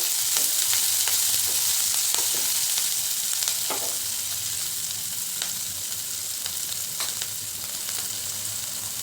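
Green chillies and garlic fry in a pan with a steady, close, continuous sizzle and occasional crackling pops, heard on their own with no talking.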